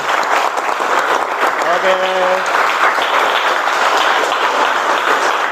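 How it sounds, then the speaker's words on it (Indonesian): Students in a Year 10 automotive engineering class break into loud, sustained applause filling the classroom, with a brief voice heard over the clapping. "Beri tepuk tangan untuk kita semua."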